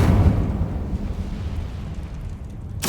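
An Incendio fire spell cast in the Hogwarts Legacy video game, a deep rumbling whoosh of flame that opens loud and settles into a lower roar, with a sharp burst at the end.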